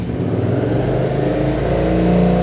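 A 2018 Suzuki V-Strom 650XT motorcycle with an Akrapovic aftermarket exhaust runs close by, its engine note steady and loud with a slight rise in revs toward the end.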